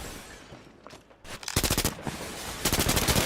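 Gunfire in the online shooter game Combat Champions, rapid automatic bursts of rattling shots that grow denser and louder toward the end, filling the mix.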